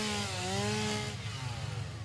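A chainsaw in the video game Satisfactory cuts mycelia, giving a loud continuous buzzing drone that holds steady, then shifts pitch slightly midway through the two-second cut.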